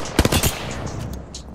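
Rapid bursts of video game gunfire crackle through a two-versus-one fight, a dense cluster of loud shots early on, then quieter scattered pops and distant firing trailing off.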